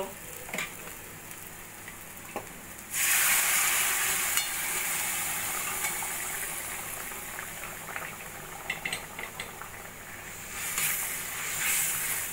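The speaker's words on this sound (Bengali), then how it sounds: "মাংসটা ভালো করে মশলার সঙ্গে মিশিয়ে নেব।" Boiled mutton is tipped into a pan of spice masala and begins to fry. A loud, dense sizzle starts suddenly, then settles into steady frying with scattered scraping and stirring noises. It stays close, with no voices over it.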